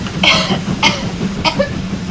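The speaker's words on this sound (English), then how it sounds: "Your coughing seems to be getting worse, Millie." Three short raspy coughs from a cartoon steam engine, close and fairly loud, spaced evenly apart.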